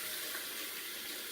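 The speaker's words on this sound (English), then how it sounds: "add water to that jar." Water runs steadily from a kitchen tap into a jar that held tomatoes, a close, even rush of flow with no pauses and no voices.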